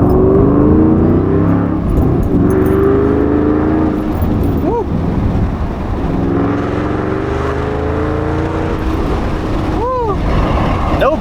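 A Ford Mustang GT500 on newly fitted Fortune Auto coilovers accelerates near full throttle, a loud sustained engine roar rising in pitch from inside the car, with voices talking over it.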